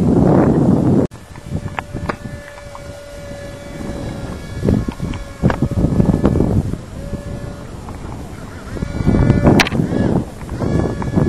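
Steady wind buffets the microphone on a boat with gusty rumbling, alongside faint creaks and a thin, sustained whistling tone.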